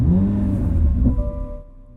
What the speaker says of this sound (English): We'll go ahead and fire up that beautiful engine.